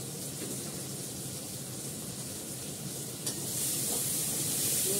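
Cumin seeds tempering in hot oil give a steady, dense sizzle that holds evenly and swells a little louder toward the end.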